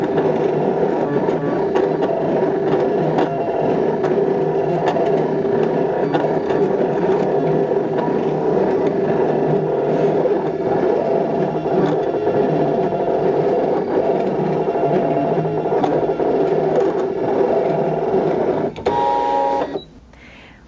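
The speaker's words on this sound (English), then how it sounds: "I'm going to hit cut, start, and my stencil should cut out." ScanNCut cutting machine running through a plastic stencil, a steady mechanical whir with rattling gear and motor chatter that continues for about eighteen seconds before stopping.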